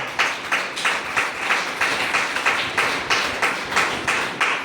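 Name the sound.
congregation clapping loudly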